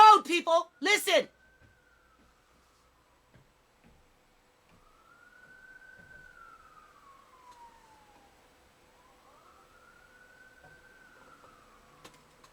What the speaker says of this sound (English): Do you hear the siren coming?